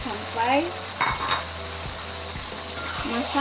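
Pounded beef sizzles and crackles in a hot pan with chili for dendeng lambok, a Padang dish. A spatula scrapes and clinks against the pan now and then.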